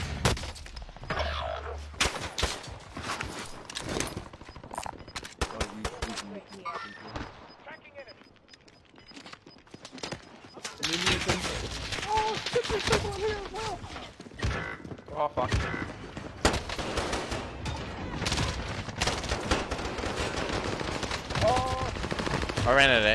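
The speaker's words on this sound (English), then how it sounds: "he ate your shots and my Mac 10 shots" Mac 10 submachine gun fire in a shooter video game comes as rapid bursts and scattered shots, loud and close, with pauses between volleys and some mechanical clicks, while players talk over the action.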